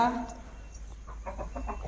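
Chickens cluck in short bursts close by, a few fowl calls over a steady low hum, with a brief tonal cry at the start.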